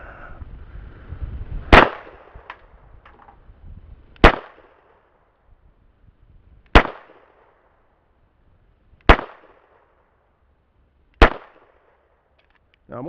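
Five separate rifle or pistol shots, rounds hand-loaded with Clays powder, crack sharply at a range with even pauses of about two seconds between them, each shot ringing briefly before quiet.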